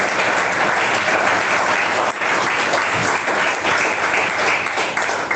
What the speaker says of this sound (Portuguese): Pode bater palmas.